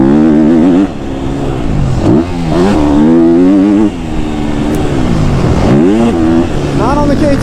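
KTM 250 SXF four-stroke dirt bike screaming near at high revs on a motocross track, pitch climbing and dropping through gear changes with brief throttle chops, loud and continuous over the rider's voice.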